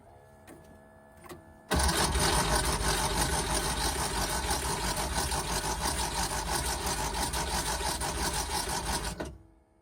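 Starter on a Porsche 914 cranks the engine without it firing, a steady, loud, even churning that begins abruptly and runs for about eight seconds before cutting off.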